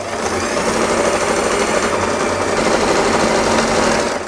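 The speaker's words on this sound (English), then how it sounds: "Let's start sewing." A sewing machine zigzag-stitches thick velvet fabric with a fitted 16/100 needle, running steadily and loudly without pause for the whole stretch, its rapid mechanical whir close and continuous.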